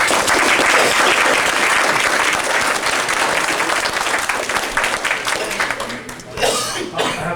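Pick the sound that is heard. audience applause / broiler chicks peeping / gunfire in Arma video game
audience applause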